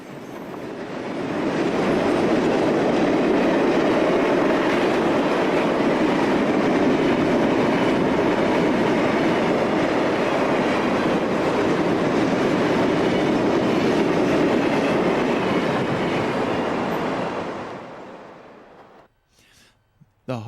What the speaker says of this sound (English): The heart of the eastbound intermodal fleet will now begin blasting through Oak Harbor